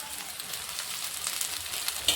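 Radish leaves drop into onions frying in hot oil, and a steady bright sizzle runs throughout, close and continuous, crackling slightly louder toward the end, with no talking.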